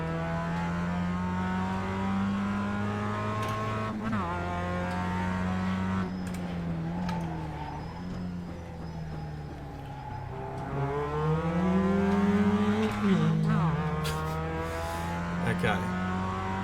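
Mazda MX-5 Cup race car engine in the iRacing sim at Laguna Seca, droning steadily near and loud, with rising and falling revs through gear changes and a brief lift around four seconds, someone talking over it.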